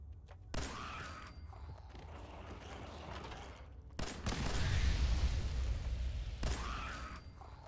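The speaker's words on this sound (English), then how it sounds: "I was not actually expecting that explosion to take down the mole rat" An explosion in a video game, set off against a mole rat in a dark underground area, bursts in around four seconds as a loud broadband boom with a rumbling tail, after sharp impact cracks and mechanical clanks.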